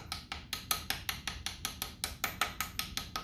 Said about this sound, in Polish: Już bardzo delikatnie delikatny stukam, żeby mi to wchodziło.